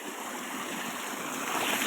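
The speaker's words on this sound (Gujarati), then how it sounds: "આ વરસાદનું પાણી ચાલશે" Rainwater flowing along a road during very heavy rain, a steady broad rushing wash that holds even and loud throughout with no voices.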